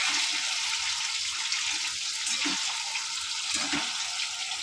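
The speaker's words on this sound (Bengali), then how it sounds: "তো বন্ধু দেখো ডিমগুলো ভেজে নিই।" Eggs frying in a pan in a home kitchen, a steady broadband hiss with soft crackles and a few faint spattering pops, continuous and fairly close, no talking.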